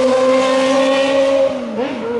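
A car speeds past at a cars-and-coffee car club meet, a loud, close engine roar with a sustained tone that shifts in pitch as it goes by and then fades slightly, with no speech over it.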